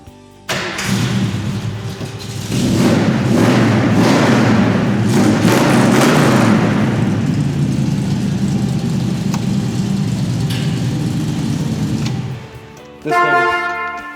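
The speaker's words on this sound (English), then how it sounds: "Just gonna fire this up a second and hit those headlights too." A light blue metallic classic car with hideaway headlights cranks and fires up, its engine catching with a thump and settling into a loud, steady idle before cutting off, then a brief clatter.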